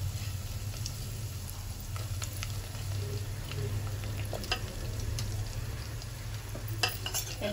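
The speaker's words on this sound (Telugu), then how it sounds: "ఇప్పుడు మనం ఎల్లిపాయలు వేసుకున్నామండి." Garlic frying in a pan for tamarind moong dal, a steady close sizzle with occasional stirring clinks and scrapes, no talking.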